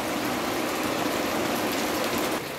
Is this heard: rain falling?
yes